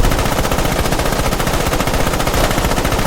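A soldiers' gunfire volley rattles on continuously, loud and dense like sustained machine-gun fire, with no voices over it.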